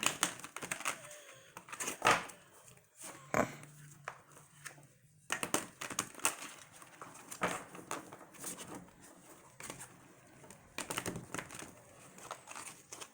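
Tarot cards are handled and shuffled in quick bursts of papery riffling and clicks, with short pauses between rounds; close and fairly quiet.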